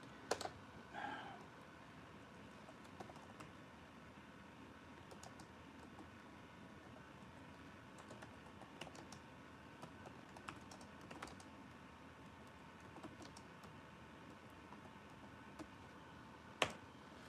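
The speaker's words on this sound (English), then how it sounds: "Okay, I just typed it in." Quiet, steady typing on a computer keyboard, rapid soft key clicks running continuously at close range with a faint background hum and an occasional louder tap.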